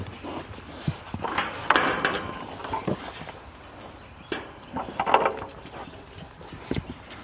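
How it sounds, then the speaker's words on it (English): Pigs let out of a muddy pen onto pasture, their hooves thudding and scuffling in an uneven run of footfalls, close and fairly loud, with a few sharper knocks and no talk. "let's go and let the pigs out to greener pasture"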